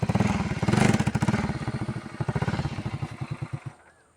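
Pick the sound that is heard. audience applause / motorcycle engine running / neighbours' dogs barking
motorcycle engine running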